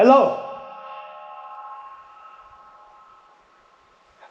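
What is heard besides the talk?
voice resonating down a long tubular passage in a dam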